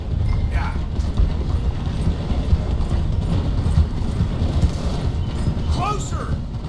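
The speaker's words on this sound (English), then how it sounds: "The train is slowing down to go through the station." Horses clip-clop at a steady gallop beside a slowing train in Red Dead Redemption 2, hoofbeats and mechanical rumbling continuous and loud, with brief squeaky sounds near the end.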